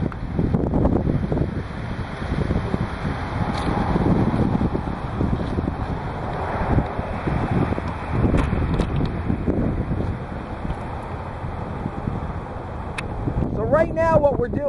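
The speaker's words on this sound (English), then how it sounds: "We have a really good wind right now." Strong outdoor wind gusts across a homemade horizontal-axis wind turbine with a small 4-foot blade driving a 180 volt DC generator, heard as loud, steady roaring buffeting with a person talking over it.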